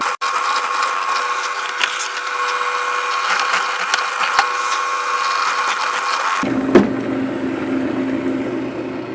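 A drill bit bores steadily into wood while a part for a tape loom is machined. The grinding roar runs loud and unbroken for about six seconds, then cuts off, leaving a low hum and a single knock.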